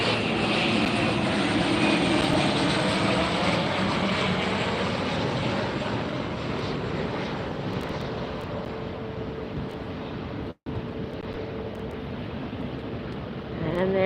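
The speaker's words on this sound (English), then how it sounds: "We have a turboprop coming in for a landing." A turboprop airliner descends to land at LAX, its engine and propeller roar steady and fairly distant throughout, with wind buffeting the microphone.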